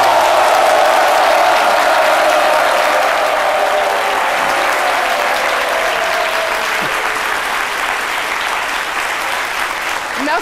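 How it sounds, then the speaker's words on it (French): Studio audience on its feet applauding a former boxer on a midday talk show, sustained dense clapping at steady loudness throughout, with a voice faintly underneath. "je vais demander au public de se lever encore une fois pour applaudir très fort vos prouesses"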